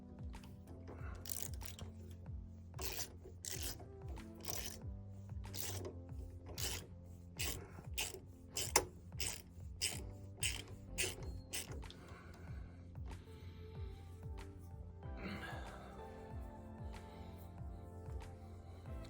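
A hand ratchet with a 9/16 inch socket cranks a 1ND extraction tool on a pump fluid end, giving a regular run of sharp metallic clicks, then softer scraping and rubbing at the end.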